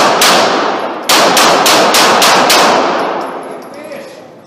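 Glock pistol fired at an IDPA shooting match: a rapid string of about eight or nine sharp, loud shots, each cracking hard with a ringing echo that fades after the last round.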